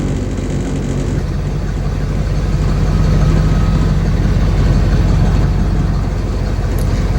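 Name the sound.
truck engine running after oil change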